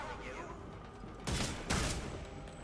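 Pistol fire in the video game Redfall: two sharp close gunshots about half a second apart over a low in-game background hum, with no talk.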